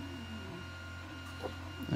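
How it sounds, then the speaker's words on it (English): 3D printer at work printing a part for a ham radio hobby, a steady motor whir and hum with faint stepping shifts, growing slightly louder at the end. "I'll show you my printer actually, my 3D printer going on."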